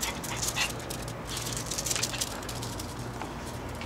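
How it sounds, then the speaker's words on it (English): A dog whimpers and gives a few short yips, faint and close-miked over a low background hum, with no one talking. "That's my dog."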